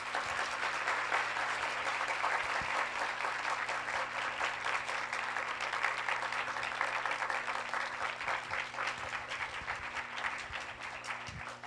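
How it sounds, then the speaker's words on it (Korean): An audience at a talk concert applauds to welcome guests onto the stage, a dense, steady burst of clapping sustained for about ten seconds. "여러분 큰 박수로 맞이해 주세요."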